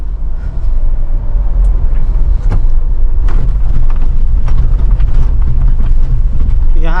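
A Mahindra Thar SUV drives over a badly broken, potholed road after a downshift, its engine and chassis producing a loud, continuous rumble with clattering jolts throughout.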